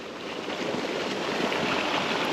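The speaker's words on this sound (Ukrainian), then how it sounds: "Водоспад, водозлив." Water rushes steadily over the spillway of a fishing pond, a broad, even roar with no pauses and no voices.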